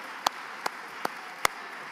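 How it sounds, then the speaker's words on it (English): Sparse, scattered hand claps from a small audience at a Biafra independence restoration gathering, four isolated claps spaced evenly apart against a quiet room hum. "Clap for yourself."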